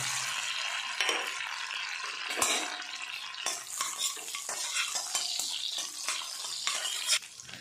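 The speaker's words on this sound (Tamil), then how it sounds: "இதை ஃபஸ்ட்டு நம்ம எண்ணெயில் போட்டு வறுத்துக்கலாம்" Steady sizzling of coconut pieces frying in hot oil, with a spoon stirring and scraping the pan now and then; no one speaks.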